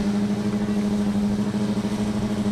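A Formula Student combustion race car circles the skidpad, its engine a steady droning hum with a slight pulsing wobble. The sound stays fairly constant and moderately loud throughout, with no talking.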